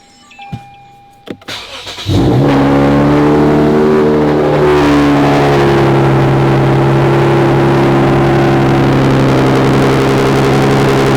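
A Lexus IS car engine cranks briefly after a few clicks, then catches and roars to life, settling into a loud, steady running hum that continues to the end.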